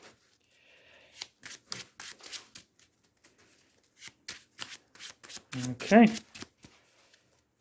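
Marvel Champions playing cards are shuffled by hand in a few quick riffling bursts between short bits of speech, closing with a louder, fuller shuffle near the end.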